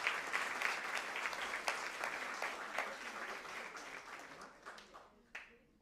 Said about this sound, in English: So round of applause for all of you first